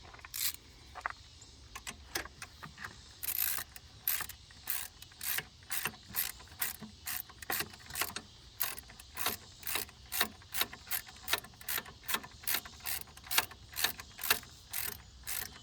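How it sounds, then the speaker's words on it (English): A ratchet wrench tightens a bolt during an alternator replacement on a 2006 Ford Taurus with a 3.0L engine, giving a long run of sharp, evenly spaced clicks that are close and distinct, with no talking. "Go ahead and put that bolt in all the way."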